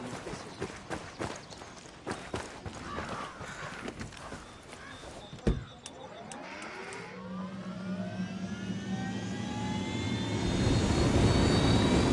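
A helicopter in a video game, its engine whine and rotor noise building and rising steadily toward the end, preceded by sharp footsteps and clatter with a loud impact midway.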